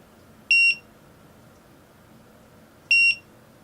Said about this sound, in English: your keychain or whatever else this device is attached to will start beeping until you go find it